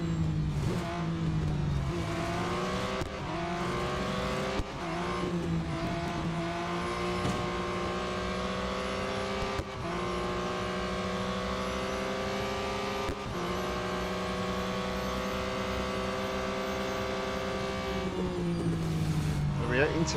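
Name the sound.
race car engine in the video game Real Racing 3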